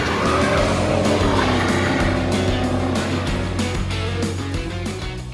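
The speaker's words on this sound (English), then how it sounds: "So that's how burnout's supposed to look if Jason was standing on the other side" A truck engine revs hard under a continuous roar of spinning, squealing tires, the loud burnout slowly easing off toward the end.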